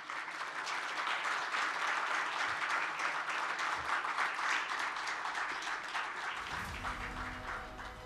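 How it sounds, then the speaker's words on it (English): A large conference audience at a mining and finance event claps in a sustained, even round of applause that fades as soft music rises near the end. "please give her a very, very warm round of applause"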